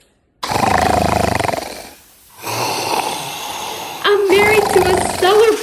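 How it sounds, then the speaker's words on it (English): A man snores in bed during an old radio comedy, loud rasping breaths in a slow rhythm with a short pause, followed by further snorting breaths. "you promised you wouldn't snore. And the minute you closed your eyes, you started."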